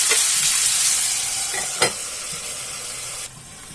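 Tomato, onion, green chili and ginger-garlic paste frying in a pan over a low flame, giving a steady close sizzle with a few soft stirring scrapes and a sharp clink, alone with no talking.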